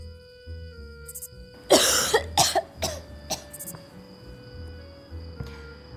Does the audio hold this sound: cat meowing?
no